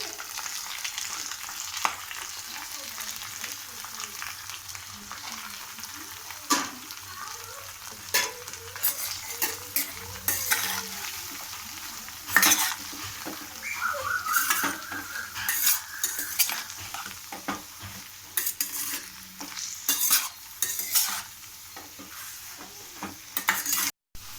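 Cabbage stir-frying in a pan for chutney, with a steady sizzle and repeated metal scrapes and clinks of a spoon moving it around, close and fairly loud, continuing for a long stretch with no voices.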